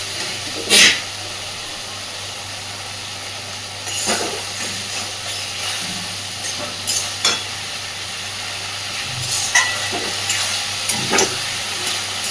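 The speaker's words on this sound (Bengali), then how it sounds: "মিশিয়ে দিয়ে একটু ভালোভাবে কষে নেব, যাতে করে মশলাটা সুন্দরভাবে ভাজা হয়ে যায়" Steady sizzling of spice paste frying in a pan with a little water, occasional scraping stir strokes, a few louder bursts of spitting; no voices.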